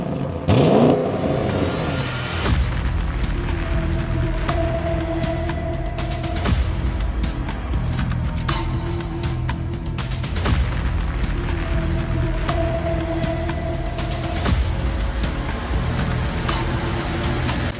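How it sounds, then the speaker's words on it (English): A 2023 Audi RS6 Avant engine revs hard up close, rising whine with sharp gear shifts and crackling exhaust pops repeating through the run. "Sporter exhaust note."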